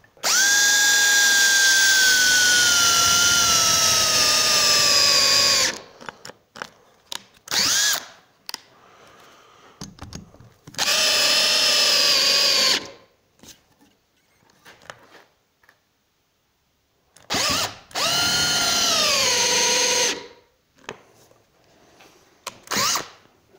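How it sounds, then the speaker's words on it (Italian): An 18V TECCPO cordless drill whines at high speed in three long bursts while drilling a hole, pitch sagging under load, separated by short clicks, handling noise and quiet gaps. "Andiamo a forare."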